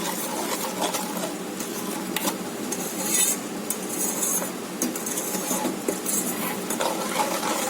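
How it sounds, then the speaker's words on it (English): A chocolate cake batter with sugar being stirred in a bowl, giving a close, continuous rasp of the spoon with small clinks against the bowl's sides. "So now we are going to stir it for say nearly 7 minutes"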